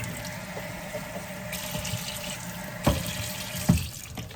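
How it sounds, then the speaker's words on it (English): Water pours steadily into a cup of Nissin instant ramen as a continuous hissing, splashing stream, with a couple of faint knocks near the end. "if you want water with it, you can put water"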